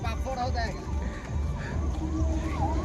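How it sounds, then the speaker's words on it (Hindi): A passing ambulance's wailing siren sweeps up and down over steady traffic rumble and crowd noise, with voices murmuring nearby. "एम्बुलेंस जाउची"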